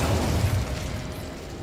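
Incendio fire spell cast in the Hogwarts Legacy video game, a short low whooshing burst of flame that is strongest at the start and then trails off over a second or so, with no talk.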